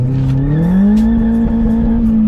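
Modified Vauxhall Astra VXR launching hard, its engine note rising steadily as it accelerates with audible wheel spin and tyre noise, loud and close throughout.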